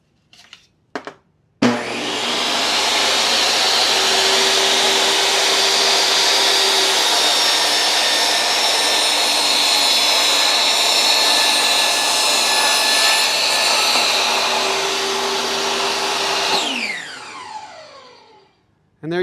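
A table saw with the fence set to 3/4 inch cuts wood for a beehive entrance reducer. The motor spins up, a loud steady whine and buzz runs through the cut, then the blade winds down to quiet.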